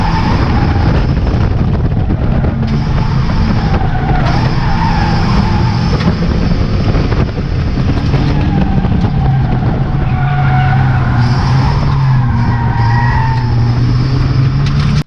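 A race car accelerates away from the start and swings round the tight Knockhill hairpin, its engine droning loud and constant with shifting pitch and tyre noise, heard close throughout with no talk.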